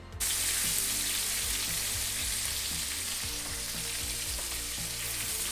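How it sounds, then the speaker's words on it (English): Beef for boeuf bourguignon sears in a hot pan with a steady, loud broadband sizzle that continues unbroken, with faint low clinks of utensils beneath it. "Here we have some nice searing."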